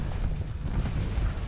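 Ship guns and lasers firing in a space battle in the video game Starsector, a dense, steady rumble of continuous weapon fire with low booming bursts and no pauses.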